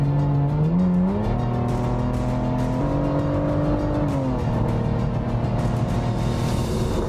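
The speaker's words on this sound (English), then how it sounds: "The exhaust sounds wild." An Aston Martin DBS exhaust growls close by, engine tone climbing and stepping through revs in a continuous, loud, rumbling drone.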